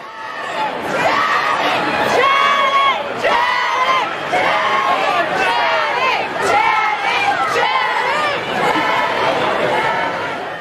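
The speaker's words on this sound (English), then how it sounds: "They're still doing their chanting and trying to get Channing Tatum to cross the street and come over and sign things." A dense street crowd at a movie premiere chants and shouts in rhythmic, excited bursts, trying to draw a celebrity across the street; the voices are loud, overlapping and continuous throughout.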